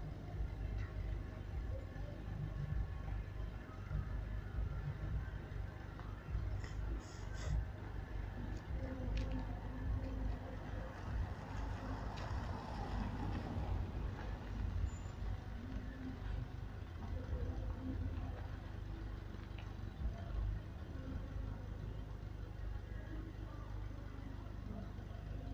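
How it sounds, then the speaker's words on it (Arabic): An Italian swing gate motor drives a double-leaf gate, each leaf about 500 kg, open by remote control, giving a steady low mechanical hum that runs evenly throughout with faint background noise. "هنبتدي نفتح البوابة عن طريق الريموت كنترول"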